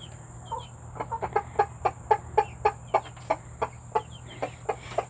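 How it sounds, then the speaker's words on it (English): A backyard-coop rooster clucks in a steady run of about a dozen sharp, evenly spaced calls, fairly close and clear over a constant low hum, with no talk. "So my rooster over there"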